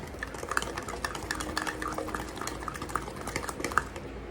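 An egg is stirred into squash pup batter in a bowl, giving a wet, sloshing churn with frequent light clicks of the utensil against the bowl at close range.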